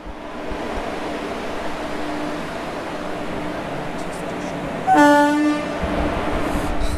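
A train pulls into Tarapith Road station, a small rural stop set amid open fields, with steady rumbling rail noise throughout and a loud, long horn blast near the end, heard from a platform overbridge.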